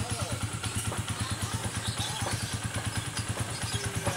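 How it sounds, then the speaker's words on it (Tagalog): A motorcycle engine runs after a starter relay repair, idling with a steady, rapid rhythmic thumping close by while someone talks over it. "Siyempre masaya tayo mga idol kasi napaandar na ni idol Motorboy"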